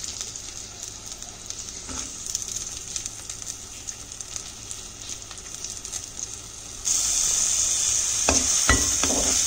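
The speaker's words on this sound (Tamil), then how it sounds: "இப்போ இந்த எண்ணெய் காஞ்ச உடனே நம்ம சின்ன வெங்காயமும் பூண்டும் போட்டுடலாம்." Shallots and garlic sizzle in hot coconut oil in a clay pot, a steady close crackling hiss that jumps louder near the end as stirring knocks come through.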